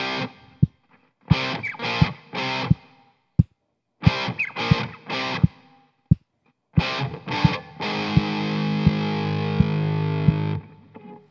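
An electric guitar through heavy distortion plays a riff, stabbing out rhythmic power chords separated by short gaps, then holding a long ringing chord at the end, while a click track ticks steadily underneath.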